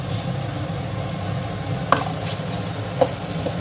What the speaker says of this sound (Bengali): এবার এর সঙ্গে এটাকে ভালোভাবে একটু কষে নেব